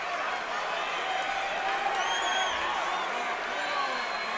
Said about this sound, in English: Crowd really trying to cheer on Silverio and Sazoff here inside the cage in Miami, Florida, the Bank United Center